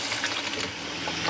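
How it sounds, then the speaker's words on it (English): Water gushes steadily from a tap inside a 2018 Geo Pro 19 FBS RV, a continuous hissing flow with a low pump hum underneath. "So water's turning on."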